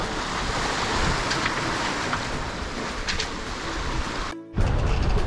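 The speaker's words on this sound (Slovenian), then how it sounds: "Danes je spet nekaj vetra" Steady wind and waves wash around a sailboat running under full mainsail and a reefed genoa, a constant broadband rush with a brief dip before it returns.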